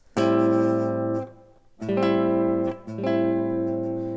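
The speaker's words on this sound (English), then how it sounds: "we can play a sharp 9 chord as well" Three strummed sharp 9 altered dominant guitar chords, each allowed to ring and sustain before the next, clear and close with no talking.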